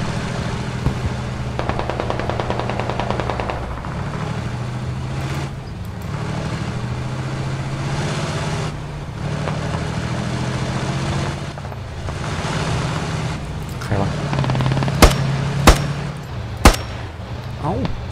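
Enemy gunfire in the video game Squad, set in Fallujah during the Iraqi civil war: sustained rattling bursts over a dense rumbling battlefield bed, with a few sharper, louder shots standing out near the end.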